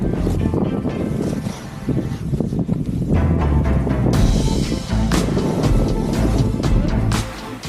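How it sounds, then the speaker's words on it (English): Strong, gusty wind on a mountain ski slope roars and buffets the microphone in heavy, continuous blasts, with brief surges and no clear voices. "When I was there, it was highly windy"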